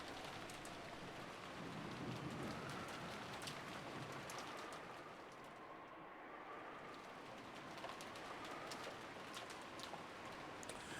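Steady, even rain falls across an Umineko rose garden, a dense continuous hiss of drops on surfaces that stays full and unbroken throughout, with no voices.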